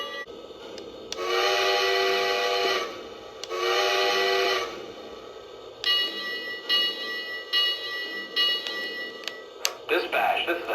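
Lionel New York Central model train set locomotive sound effects: two long sustained whistle blasts, then a run of shorter whistle toots and mechanical chuffs, close and clear with no talk.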